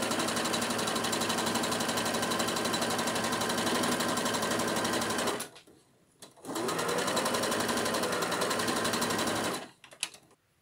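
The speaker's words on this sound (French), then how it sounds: "Je fais un point arrière au niveau du poignet pour démarrer et après je pars en point droit" A sewing machine runs a straight stitch along a hospital gown sleeve, starting with a backstitch at the cuff. It plays as two long, loud, steady runs of rapid needle chatter with a short pause between them and no talk.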